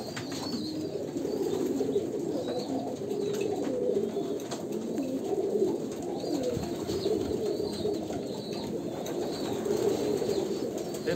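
A Kalanka pigeon of pure Andhra bloodline coos in soft, repeated rolling calls, close by and continuous, with no talking.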